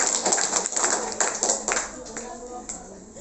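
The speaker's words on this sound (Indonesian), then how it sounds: "Tepuk tangan buat rendang." Children in a sixth-grade class presentation about rendang clap together in a brief, fairly close burst that thins out and fades toward the end.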